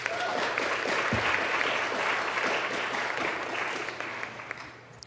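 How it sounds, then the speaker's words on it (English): An audience at a scholarship awards ceremony applauds the families, steady loud clapping that holds for several seconds and then gradually thins and fades toward the end. "can we give the families a round of applause too?"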